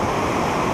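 Ocean surf rushing up over sand at a rocky beach in Crystal Cove State Park, a loud, continuous broadband wash close by with wind noise mixed in.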